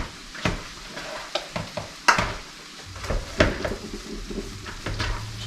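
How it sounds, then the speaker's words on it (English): A seasoned mixture with salt and pepper is mixed in cookware. Close scraping and tapping strokes of a spoon or spatula against the pan or bowl come in an irregular rhythm over a faint sizzle-like hiss. "we're going to mix that together well"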